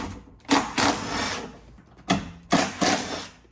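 A Porsche 911 window regulator with an unsprung coil rattles and grinds in four broadband bursts, close and fairly loud, each lasting under a second with short gaps between.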